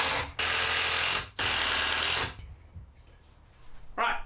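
Power drill driving a screw into a wooden hat rack being fitted with shelves, two loud sustained whirring bursts of about a second each, followed by quieter handling and a short final burst.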